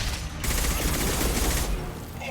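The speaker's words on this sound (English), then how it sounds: "Firing concussive shot." A concussive shot fired in the Mass Effect 2 video game, a loud, sustained blast of broadband noise roaring for well over a second before tapering off, with no voices over it.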